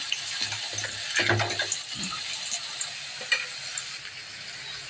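Gobi manchuria, battered cauliflower, fries in a pan with a close, steady crackling sizzle, joined by a few louder splutters and clinks of a utensil stirring partway through.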